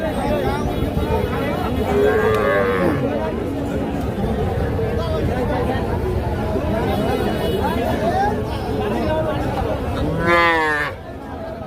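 Young cattle calves moo repeatedly at a busy livestock market, with several drawn-out calls rising over a constant crowd babble and nearby talking.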